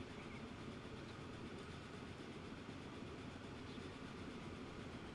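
A train runs in the Transport Fever 2 video game with a continuous, faint rolling rail noise and clatter at a low, even level and no voices.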